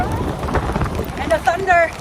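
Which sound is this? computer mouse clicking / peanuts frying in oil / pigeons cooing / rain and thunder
rain and thunder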